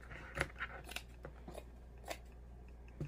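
Scissors snip through sweater material in a few quiet, crisp cuts, each a short crunchy slice with small pauses between them, close by and alone.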